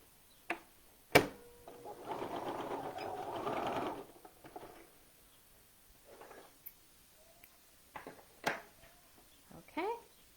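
Domestic sewing machine stitching fabric for a top, a steady whirring run of about two seconds, bracketed by sharp clicks, thumps and handling noises at close range.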